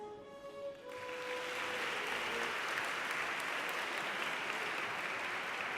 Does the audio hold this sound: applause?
yes